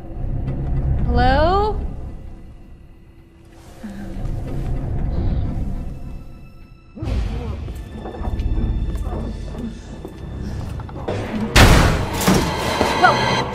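Gunfire rings out in a tense scene, first as loud sharp bursts near the end following shouting, with a rising cry and rumbling movement before it, and people speaking throughout.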